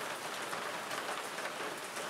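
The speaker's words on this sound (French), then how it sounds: "Il pleut encore un petit peu." Steady rain falls at night in the Hluhluwe-Umfolozi game reserve, South Africa, a dense, even hiss of drops on surfaces that stays constant and fairly soft throughout, with no voices.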